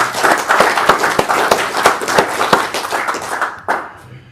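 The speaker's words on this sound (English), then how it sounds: "So anyway, round of applause for Gary." A room full of people at a monthly club meeting in an RSL hall give a lively round of applause, dense overlapping claps going for about four seconds before trailing off to a few last scattered claps.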